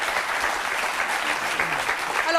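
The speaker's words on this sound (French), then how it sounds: "On les applaudit très fort" Loud, steady applause from a crowd fills the whole stretch, dense clapping without pause.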